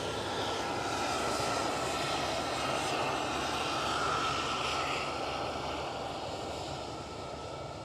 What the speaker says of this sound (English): we do a Vueling with a Barcelona livery